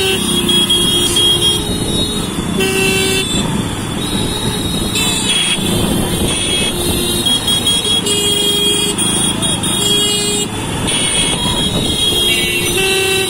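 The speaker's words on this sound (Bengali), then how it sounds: "ভিড় অতিক্রম করে চমৎকার ভাবে মোটরসাইকেল গুলো এগিয়ে যাচ্ছে সামনে" Motorcycles roll through a crowded street procession for an SSC 1988 batch anniversary rally in Naogaon, engines droning steadily under loud crowd noise with scattered horn toots, close and continuous throughout.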